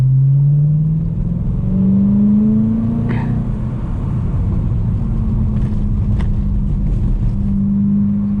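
A 2011 BMW M3 E92 fitted with an IPE exhaust cruises along, its engine droning loud and steady from inside the cabin, pitch sliding up and down with gear changes and throttle, with no talking.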